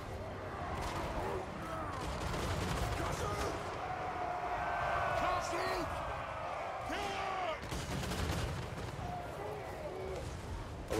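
Cannon artillery booms in the video game Total War: Warhammer III, with heavy repeated impacts and a continuous roar of battle throughout, and someone speaks over the din.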